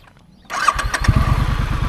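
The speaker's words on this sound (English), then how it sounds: "the stock exhaust sounds pretty damn good" A Triumph Street Scrambler with its stock exhaust cranks briefly and fires up into a loud, close, deep, throbbing idle that runs steadily after the start.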